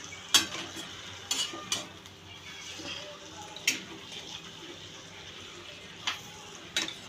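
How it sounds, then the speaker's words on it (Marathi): A spoon stirs pumpkin into softened tomatoes in a cooking pot for mutton dalcha, giving sparse, quiet scraping clinks at irregular intervals over a low, steady background. "भोपळा टाकून चांगलं हलवून घ्यायचं आहे"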